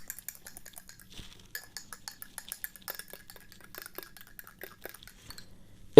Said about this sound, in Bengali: একেবারে একাধারে 2 থেকে 3 মিনিট নাড়বেন